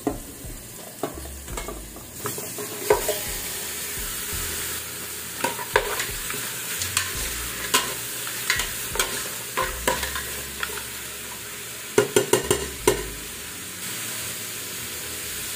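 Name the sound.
boiled beef with ginger sizzling and being stirred in pan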